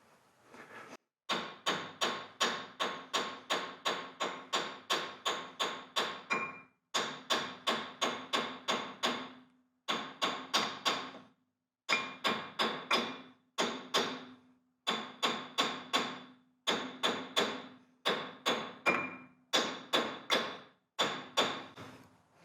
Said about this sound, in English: I am just using the weight of the hammer basically to tap that on